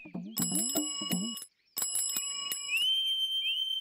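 A bright metallic bell rings in quick repeated dings, pauses briefly, then rings again with a long sustained ringing tone.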